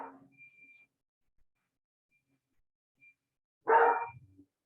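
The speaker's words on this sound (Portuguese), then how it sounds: "o cachorro está enlouquecido" A dog barks loudly in a single burst with a lower growly tail, set off by a passing garbage truck, after near silence and a brief faint sound at the start.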